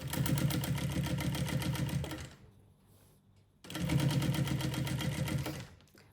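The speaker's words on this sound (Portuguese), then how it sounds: "vamos passar uma costura, prendendo essa alça para que ela fique posicionadinha na parte" A sewing machine stitches a strap onto the front of a lunch bag in two steady, fast bursts, with a quiet pause between them and the motor stopping near the end.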